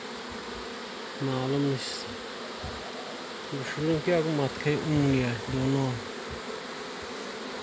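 A swarm of honey bees buzzes in a steady, close drone throughout, while someone speaks intermittently over the hum.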